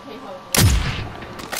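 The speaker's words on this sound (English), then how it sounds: "They're shooting at me now." A burst of gunfire in a first-person shooter game cracks out loudly and close, then fades into a ragged tail with fainter shots trailing after.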